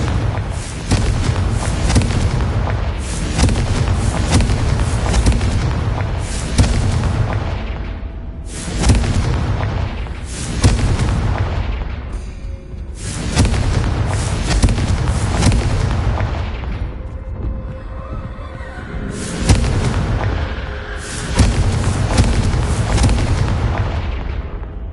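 Repeated Confringo blasting spells explode in Hogwarts Legacy, a run of loud, heavy booms arriving every few seconds, each hitting sharply and rumbling away before the next, with no talking.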